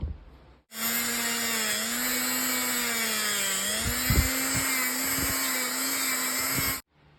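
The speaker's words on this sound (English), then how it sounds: "Then I'm gonna use this little Scotch-Brite wheel now on some of these parts." A small Scotch-Brite abrasive wheel on a power tool whines steadily and loudly while polishing Chevy truck starter parts, with brief scuffing bursts as the parts are pressed against it, then spins down.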